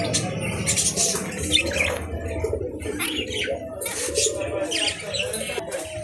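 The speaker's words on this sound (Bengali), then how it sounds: "আর এই কাছে আছে অনেকগুলো বাচ্চা পাখি" Many young pet birds in a bird shop give a dense, continuous chatter of squawks, chirps and coos that runs throughout, close and fairly loud with no pauses.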